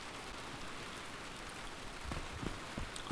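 Heavy, loud rain in the DayZ video game, a dense steady hiss of downpour that thickens with a few sharper splashes toward the end, with no voices.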